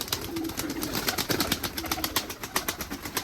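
Many pigeons flutter and shuffle close by in a loft, with soft low cooing mixed into a busy, rustling background.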